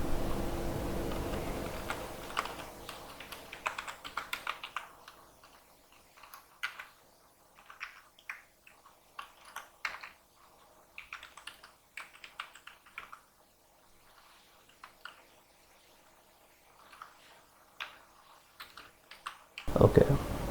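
Python code is typed on a computer keyboard in irregular bursts of close, crisp key clicks with brief pauses, continuing for most of the stretch before a louder handling noise at the end.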